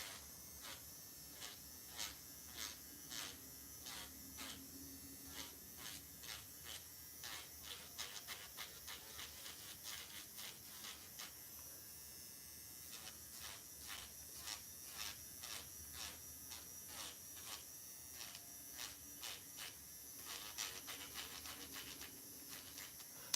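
An electric nail file buzzes steadily while sanding acrylic nails, its faint whine pulsing in rapid repeated bursts as it touches the nail over a long stretch, with no talking.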